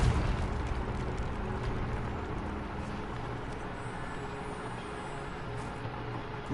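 The fiery Confringo blast spell in Hogwarts Legacy lands with a burst at the start. A broad, rolling roar follows and fades gradually, with no talk.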